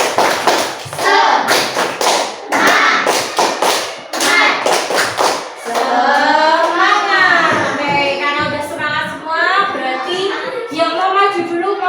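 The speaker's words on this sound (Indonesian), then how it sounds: "kita tepuk semangat dulu" A primary school class does a rhythmic chanted clap routine, sharp thuds and taps in quick patterned bursts for the first few seconds, then children's voices chanting together in a sing-song unison over lighter claps.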